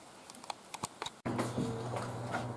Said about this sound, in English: Just a quick, rapid downpour.